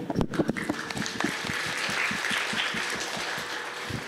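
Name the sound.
audience applauding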